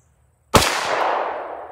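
A single loud, snappy shot from a subcompact Glock 43 9mm pistol firing 100-grain +P ammunition, followed by a ringing echo that decays over about a second.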